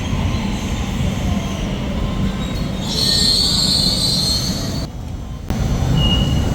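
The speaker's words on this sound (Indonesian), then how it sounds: "Nah ini kereta ini kayak apa ya, komuternya lah. Komuternya di sini 2 tingkat atas bawah" A double-decker commuter train in Sydney rumbles steadily nearby, its wheels squealing high and sharp partway through, loud and continuous with no talking.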